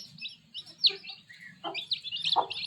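A newly hatched chicken chick, beside its hen, gives a few thin, high chirps, close and fairly clear, over a low steady background hum.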